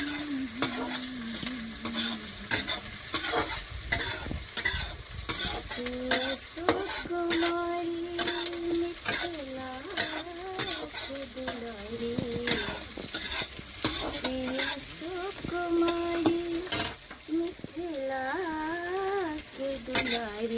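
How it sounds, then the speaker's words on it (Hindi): Onion frying in a pan: a continuous, close sizzle with frequent metal scrapes and clinks of stirring, running beneath a voice singing a melodic tune throughout. "थोड़ा सा प्याज हम पके दें"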